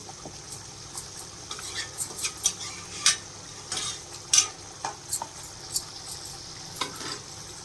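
Vegetables fry in a pan while being stirred, with soft sizzling under a run of sharp utensil scrapes and clinks against the pan, close and irregular.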